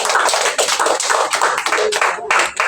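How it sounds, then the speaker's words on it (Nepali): A church congregation claps together to welcome a new speaker to the front: loud, close, rapid hand claps in uneven bursts with brief dips between them, continuing for under three seconds. "हामीले चाहिँ नयाँ वक्तालाई चाहिँ हामी ताली बजाएर"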